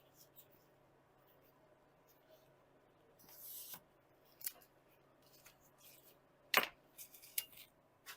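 Sound deadener mat for a VW Beetle being cut with a blade along a straight edge: quiet, brief scraping slices scattered over a hushed background, one sharper cut standing out partway through.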